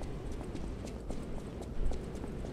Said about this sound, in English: Yay, donkey.